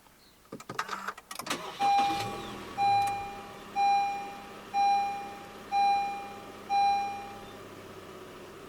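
A 2020 Honda HR-V 1.8 engine cranks from a push-button start and catches to life, followed by six evenly spaced electronic beeps about a second apart.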